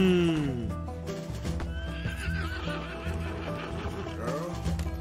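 A horse neighs loudly and whinnies with a shaky, descending call in Red Dead Redemption 2, while hooves shuffle and other game sounds play underneath.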